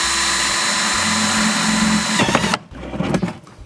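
A power drill boring a hole about an inch from the bottom of a plastic chicken waterer, with a loud, close, steady whine for over two seconds that then breaks into grinding bursts as it cuts through.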